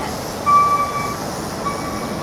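A Q subway train rumbles steadily nearby on an elevated track, with a thin metallic squeal of wheels rising briefly over the continuous rail noise.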